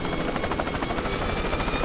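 Helicopter in the video game Worms WMD, a loud, continuous buzzing rotor whir with a fast, even pulse throughout.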